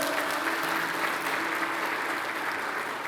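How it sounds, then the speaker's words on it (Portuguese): Steady applause from a church congregation during a sermon, even and sustained, moderately loud with a faint hum underneath and no one speaking over it. "Você pode aplaudir o Senhor por isso?"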